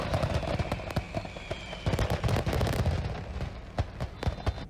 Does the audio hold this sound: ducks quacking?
no